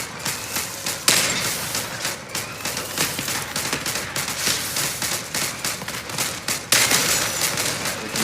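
Heavy machine gun fire from a combat vehicle in the Crossout video game, a dense, continuous rattle of rapid shots lasting throughout, with a few louder bursts standing out above the steady stream.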